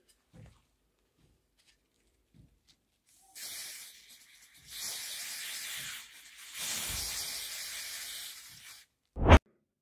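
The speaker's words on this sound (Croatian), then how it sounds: "I malo ovoga cinka u spreju za zaštitu od rđe." Zinc spray for rust protection hisses from an aerosol can onto pipe parts under a bathroom sink, in three close bursts of increasing length after some faint handling taps, ending with a sharp knock.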